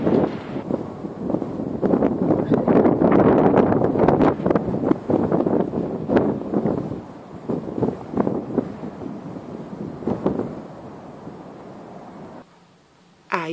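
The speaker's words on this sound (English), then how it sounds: "It's really windy." Strong wind gusts roar against the microphone in a wintry outdoor garden, a loud, rough rush that swells and dips throughout before cutting off near the end.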